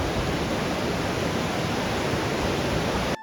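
A waterfall at Yamunotri, the source of the Yamuna, roaring as a steady, loud, dense rush of falling water that cuts off abruptly at the end.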